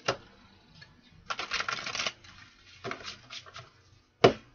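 Cards riffled and shuffled in several quick crisp bursts, separated by short pauses, close and clear, ending with a sharp snap.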